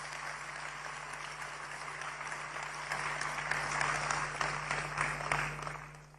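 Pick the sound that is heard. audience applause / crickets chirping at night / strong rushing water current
audience applause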